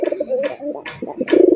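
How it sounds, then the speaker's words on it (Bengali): A pair of male pigeons in a cage coo in quick throaty rolls, three or four swelling calls back to back, very close and loud. "এটা হচ্ছে নর, এই জোড়াটা নর কবুতর।"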